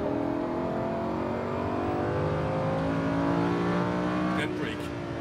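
A Lamborghini race car engine revs and accelerates loudly on a Las Vegas track, pitch climbing steadily in smooth harmonic sweeps, close and continuous before easing off at the end.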